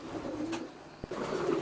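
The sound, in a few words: racing pigeons cooing in a loft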